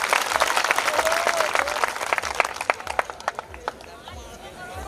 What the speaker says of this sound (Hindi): जोरदार ताली बजाकर उनका अभिनंदन करें।